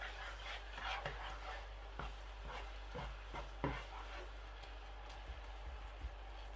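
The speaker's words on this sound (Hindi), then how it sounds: "अच्छी तरह से इसको मिक्स कर लेना है" Semolina is stirred into a potato mixture in a pan for potato rings, giving a series of soft, rhythmic scraping strokes with occasional light knocks, quiet over a low steady hum.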